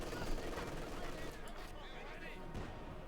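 Stuart light tank fire in Company of Heroes 2, a steady stream of shots and battle noise blasting at infantry throughout, with a commentator's voice running over the top.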